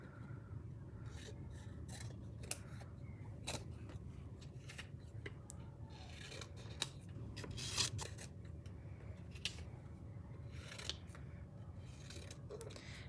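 Scissors snipping through paper while small pieces are cut apart, a steady series of soft close-up cuts and rustles with scattered sharper snips over low room noise.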